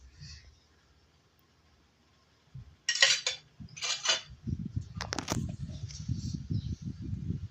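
Two ladles stir a heart of palm sauté in a pan, giving a few sharp metallic scrapes and clinks at first, then a busy, continuous stirring and sizzling rustle.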